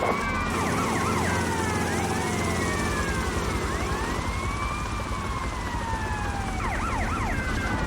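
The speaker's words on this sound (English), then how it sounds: "Police car." A police car siren in the video game Grand Theft Auto: Vice City wails continuously, with sweeping rising and falling tones and quick yelping bursts, loud over steady engine and traffic noise.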